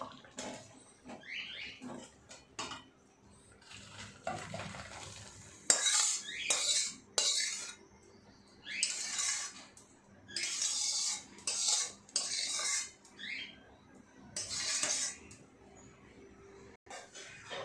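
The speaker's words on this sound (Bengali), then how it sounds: "ডালটা আমার ফুটে গেছে, আমি ডালটাকে ঢেলে নেব।" Boiled dal being poured out of a cooking pot in a small home kitchen, heard as a series of wet sloshes and spoon-on-metal scrapes and clinks, close and moderately loud, with quiet pauses between the bursts.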